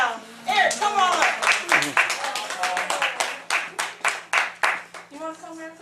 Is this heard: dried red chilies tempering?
no